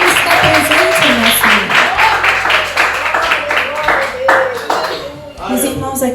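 A church congregation claps hands in rhythm, a dense, loud, steady patter, while someone speaks over the clapping.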